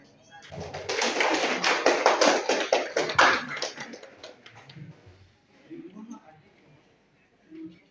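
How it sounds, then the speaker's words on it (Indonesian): Students in a networking class clap together in a dense burst lasting about four seconds, then the applause fades out and quiet voices follow. "Tepuk tangan dong."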